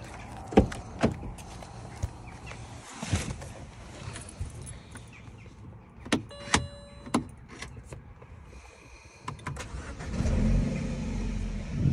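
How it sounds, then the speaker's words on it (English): A BMW E90 sedan starting up: scattered clicks, door and switch sounds and a brief whirring motor, then the engine cranks and catches into a steady idle near the end. "I'm going to start the car"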